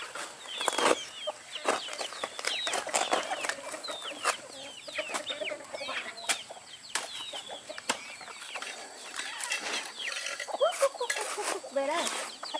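Chickens cluck and squawk in a rural coop area, a busy, fairly close scatter of short clucks and calls with occasional wing flaps and sharp clatters, while people talk intermittently.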